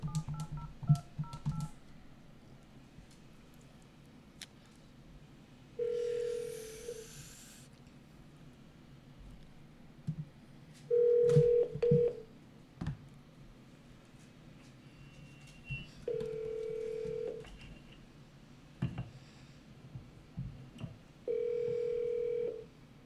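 A telephone is dialed with repeated keypad tones, broken by several steady dial-tone segments and bursts of noise, all close and fairly loud with no talk.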